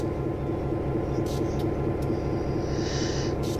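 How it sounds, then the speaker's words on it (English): A train in Train Sim World 2 gives a steady, low mechanical drone while riding, with a few faint clicks and brief higher noises on top. "get on the rear of this train"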